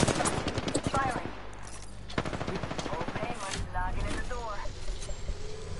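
Rapid bursts of video game gunfire crackle in repeated volleys during a battle royale match, mixed with players' voices talking over the shots.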